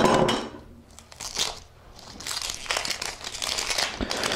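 Papery crinkling and crunching of dry skins being peeled from yellow onions, several close, uneven bursts of rustle with short pauses between them, no voices.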